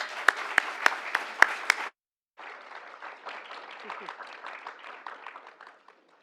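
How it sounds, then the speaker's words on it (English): An audience claps to welcome panelists at a conversation event. A few loud, close hand claps ring out, then after a brief silence a softer, wider round of crowd applause follows and fades. "let's welcome our panelists with a big round of applause"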